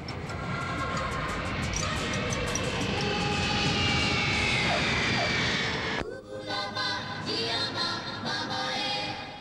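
An airplane lands in Switzerland, its engines giving a loud, steady roar that fills the whole stretch and shifts abruptly partway through before continuing.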